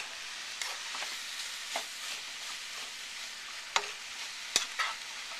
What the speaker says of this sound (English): I'll saute this stuff around here a little bit.